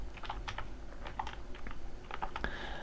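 Keys clatter on a computer keyboard as a git command is typed at the terminal, a quick, close run of light irregular clicks in a quiet room.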